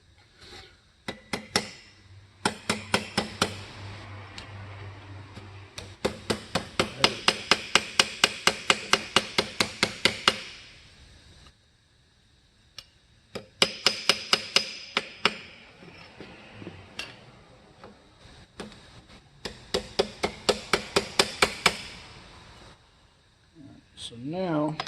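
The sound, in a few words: hammering aluminum armor ear flaps left-handed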